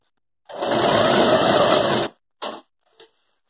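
A sewing machine stitches the fabric strap of a traditional Indian side bag. It runs in one steady burst of about a second and a half, then gives two short spurts after brief pauses.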